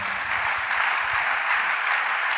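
Church congregation applauding and cheering at a worship service, a dense, loud, steady wash of clapping with no gaps from start to finish.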